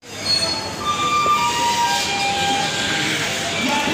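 Passenger train at an Indian railway station on the Prayagraj to Patna route: a loud, steady rumble of rolling stock with thin wheel-squeal tones rising over it, continuous and close throughout.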